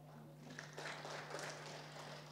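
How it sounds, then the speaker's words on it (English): Applause from a convention audience, a steady wash of clapping at moderate distance that holds evenly, with a low hum running beneath it. "Give him a clap."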